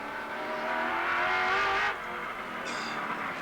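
Touring race cars at the 1991 Wellington Nissan Mobil 500 street race roar loudly as engines climb in pitch, then cut off abruptly, followed by quieter engine noise and a brief high whine.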